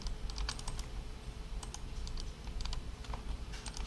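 Close, quick typing on a computer keyboard in irregular bursts of clicks, over a low background hum with no talking.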